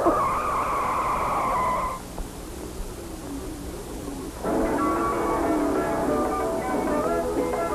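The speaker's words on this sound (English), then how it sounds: "Luigi, start the race, please" Cartoon race cars squeal their tires and roar off at the start of a race, with loud sustained skidding and engine whine that drops briefly, then resumes as more cars tear away.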